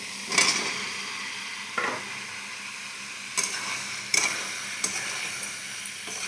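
Eggplant is sautéed in a pan, sizzling steadily and quietly while a utensil stirs it in several separate clinks and scrapes at irregular intervals.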